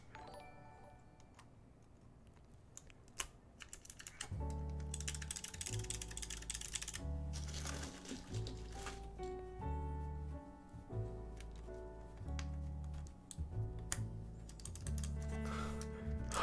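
Typing on a Corsair computer keyboard, steady clicks and clacks running throughout, partly beneath loud background music.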